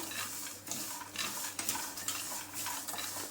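Coriander seeds and cumin dry roasting in a pan, a continuous scraping stir with small rattling spoon-on-metal knocks and faint crackle, close and without speech.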